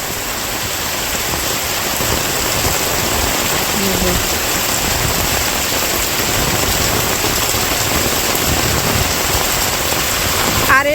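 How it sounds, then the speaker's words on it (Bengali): Heavy rain pours down with strong wind in a village at midday, a dense, loud, continuous roar of rainfall on surfaces, with a voice speaking briefly over it. "এমন বৃষ্টি নামছে আর বাতাসে সব উড়াই নিয়ে যেতেছে না জানি।"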